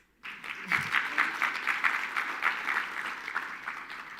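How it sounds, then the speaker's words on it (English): Audience applause at the official opening of the ACI Africa Annual General Assembly swells up quickly and holds as a steady, fairly loud patter of many hands, with a brief voice at the start. "Please, can we give him applause?"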